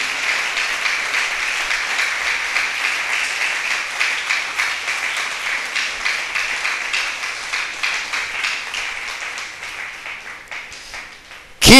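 A church congregation bursts into sustained applause during a Spanish-language sermon: many people clapping in a steady, lively patter that holds for over ten seconds, easing slightly before an abrupt loud burst at the very end.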